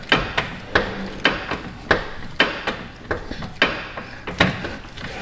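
Repeated sharp clicks from an angle torque wrench tightening a front lower control arm bolt on a Buick Encore, coming in a steady rhythm of about two per second, close and crisp, with no talking.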